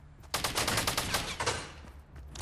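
Gunfire in the Fortnite video game: a rapid burst of repeated shots from about a third of a second onward, loud and close, with no talk over it.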